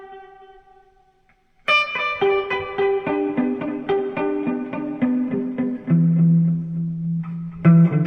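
An electric guitar through a delay pedal plays sustained notes and chords drenched in repeating echoes that smear into a shimmering, reverb-like wash.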